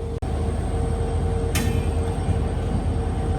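Tambaram–Rameswaram Express pulling out of Rameswaram station: a steady low rumble of wheels and carriages under a continuous hum, close and even, with a brief bright hiss partway through.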